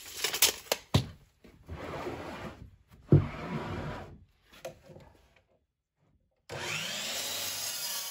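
Several strokes of a hand saw cut through a wooden axe handle to length, giving raspy bursts separated by short pauses and a sharp knock partway through, then a sudden brief silence before a steady rasp resumes.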